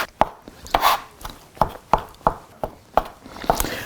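Dough being cut and folded into a mixture by hand while making Italian cavatelli: a steady series of soft thuds and scraping strokes, close and fairly loud, about one every half second, with no talking.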